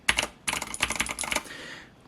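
Close, crisp clicking and clacking from typing on a Razer BlackWidow V3 Pro Wireless mechanical gaming keyboard, heard in rapid bursts of keystrokes that stop toward the end, with no voices.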